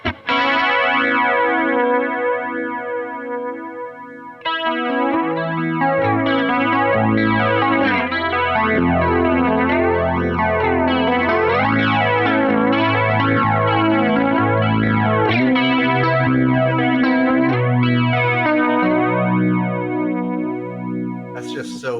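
Electric guitar through a flanger pedal, an Electric Mistress or Longamp Roxanne, plays sustained chords with a sweeping, metallic swirl that rises and falls, loud and alone, after a short pause near the start.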